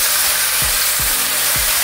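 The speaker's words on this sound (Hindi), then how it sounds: "प्याज को घी में अच्छे से हमें भूनना है" Finely chopped onion fries in hot ghee with a pinch of asafoetida, sizzling steadily and loudly with a few soft thumps of stirring underneath.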